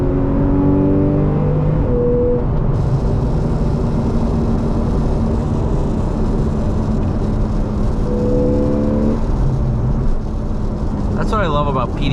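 A 2014 Porsche 911 Carrera 4S 991.1 with a PDK gearbox, convertible, accelerating hard at full throttle from seventh gear, heard from inside the car as a loud, continuous rising engine roar with quick gear changes and strong wind rush.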